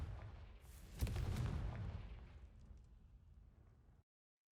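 A Confringo explosion spell in the wizarding game Hogwarts Legacy bursts with a sharp crack and a heavy low boom, then rumbles and fades over a few seconds before silence; fairly quiet overall.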